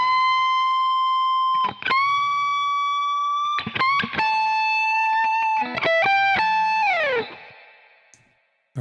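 A sustained, overdriven electric guitar phrase in the Dorian mode with long held bends and slides, ending in a downward glide that fades out.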